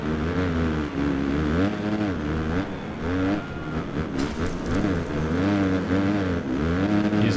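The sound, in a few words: motocross bike engine revving in the video game MXGP PRO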